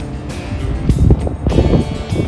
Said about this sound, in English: As you can see, it's kind of windy up here.